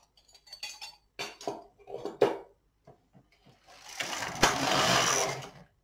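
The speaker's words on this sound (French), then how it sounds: "on va passer son chariot pour faire tomber les mailles" A Brother LK 150 knitting machine carriage sweeps across the needle bed once to drop stitches, a loud sustained rattling whoosh of about two seconds following scattered light clicks and clatter from handling the machine.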